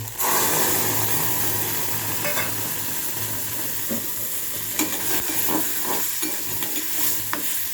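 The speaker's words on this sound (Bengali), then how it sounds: "পেঁয়াজ দিয়ে ডিমটা একবারই ভালো করে ভাজা হয়ে গেছে এর মধ্যে আমি দিয়ে দেবো সিদ্ধ করা ডাল" Boiled lentils are stirred into egg and onion frying in a pan, giving a loud, steady sizzle throughout with repeated scraping strokes of a spoon toward the end.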